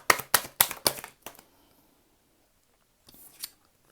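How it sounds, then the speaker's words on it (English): Tarot cards being shuffled, a rapid run of crisp riffling slaps close by, then a pause and a couple of softer card sounds near the end. "We need to shuffle again."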